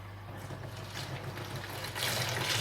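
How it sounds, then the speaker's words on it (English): An aquarium gravel vacuum siphon draws water from a 200-gallon saltwater reef tank. The water trickles and gurgles steadily at close range and grows louder near the end, with no talking. "So now the siphon's going."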